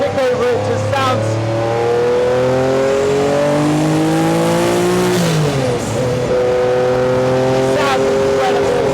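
Porsche Group C race car engine howling loud and close, rising through revs then blipping during a heel-and-toe downshift around the middle, with a voice talking over it.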